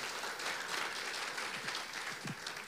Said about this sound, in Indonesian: Yang setuju berikan dulu tepuk tangan buat Allah kita.